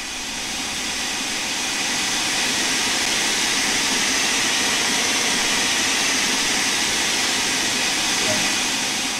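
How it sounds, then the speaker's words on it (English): Steam locomotive vacuum brake ejectors in Train Sim World 2, a loud continuous hiss of steam that holds steady throughout. "To create a vacuum for the vacuum brakes, we use the ejectors."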